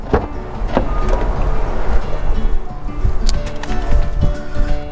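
Electric windows on a Citroen Berlingo Multispace 1.6 e-HDi XTR van running, a steady motor whir inside the cabin broken by several clicks and knocks, close and fairly loud.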